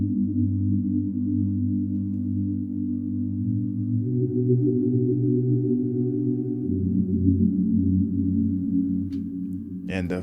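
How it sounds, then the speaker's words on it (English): Two layered synth pads, one from Expand called Spooky, blend into a sustained ambient pad whose low chord shifts partway through and holds steadily, with a brief bright flicker at the very end. "Now together they make a very special ambient pad"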